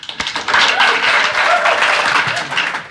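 An audience claps for a band, a steady, lively round of applause filling the room for a few seconds with a voice faintly underneath.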